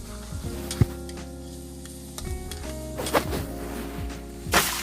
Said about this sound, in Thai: เรามาผัดซอสหอยนางรม